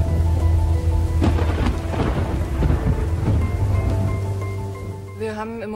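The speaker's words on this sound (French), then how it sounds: "Et soudain, l'orage éclate." A thunderstorm directly over an airport rumbles with deep thunder over steady rain, the roar staying loud and continuous throughout, with music-like tones droning underneath.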